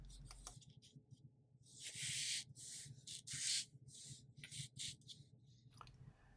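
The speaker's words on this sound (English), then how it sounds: "I took some sandpaper and went all the way around the raw foam just to take off some of those sharp edges." Sandpaper rubbed by hand around the raw foam edges of a king bed headboard, giving soft, close scratchy strokes in uneven bursts that swell and fade over several seconds, with no talking.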